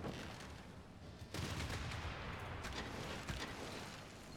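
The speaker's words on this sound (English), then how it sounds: "I do want to start shelling this area over here." Artillery shells a city in Civilization VI, a dense, fairly quiet barrage of booming blasts and crackling impacts that rolls on without a break, with louder bursts every second or so.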